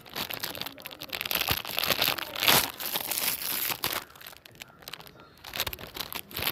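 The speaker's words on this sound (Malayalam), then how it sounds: "ഞാൻ അൺബോക്സ് ചെയ്യാൻ വേണ്ടി പോവാണ്." Package being unboxed, with plastic wrapper crinkling and rustling in irregular bursts close to the listener, no talking.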